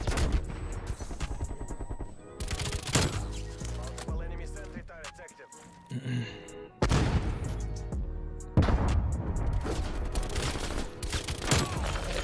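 Rapid bursts of automatic gunfire from Call of Duty Black Ops Cold War, with an OTS 9 submachine gun loadout, crackle loudly in dense volleys with brief gaps and heavy impacts, the shooting nearly continuous across the stretch.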